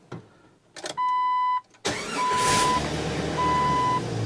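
A Jeep Wrangler's starter cranks briefly and the engine catches, then settles into a steady close idle with a faint high whine riding on top.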